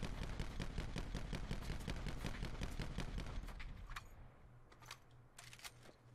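Rapid, evenly spaced shots from the Auger DMR rifle in Call of Duty: Black Ops 4 fire in a dense, loud string for about four seconds. A few scattered single shots follow over quieter game ambience.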